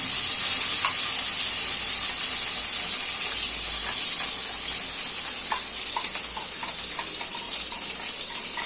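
Green chillies and a pre-fried paste sizzle steadily in hot oil for an egg omelette curry, a dense continuous frying hiss with scattered small pops and faint stirring clicks, no talking.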